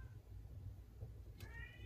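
A pet cat gives one short, faint meow nearby, set against a low background hum in a quiet room.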